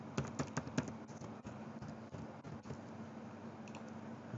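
A name typed on a computer keyboard: a quick run of close, crisp keystrokes at the start, then sparser taps fading into faint room hiss.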